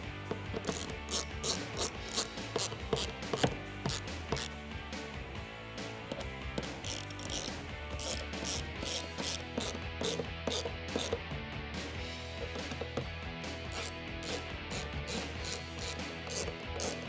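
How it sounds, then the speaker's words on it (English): A ratchet clicks steadily while Torx screws are driven into a headlight cover on a 2015-2022 Mustang, fast continuous pawl ticking with brief pauses, close and fairly quiet. "I'm going to start our screws and tighten them up with our Torx"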